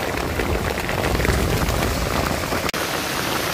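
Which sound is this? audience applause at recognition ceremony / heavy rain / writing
heavy rain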